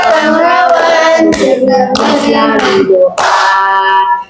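Voices sing a rhythmic children's hand-clapping song, with bursts of clapping between sung phrases, close and lively.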